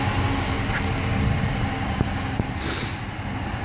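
A 2015 Dodge Challenger R/T with a 5.7-liter HEMI V8 idles steadily and up close under an open hood, a low continuous rumble with a couple of faint clicks.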